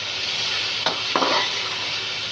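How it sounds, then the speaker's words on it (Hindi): Mash dal with chopped green chillies frying in a pot, a constant bright sizzle with two quick spoon-stirring scrapes partway through, close and fairly loud. "दाल हमारी अच्छी तरह से फ्राई हो चुकी है।"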